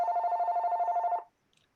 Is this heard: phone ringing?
yes